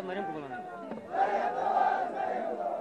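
Crowd at a Pakistani political rally in Astore, Gilgit-Baltistan, chanting slogans in unison, a loud sustained roar of many voices rising after a single voice leads off.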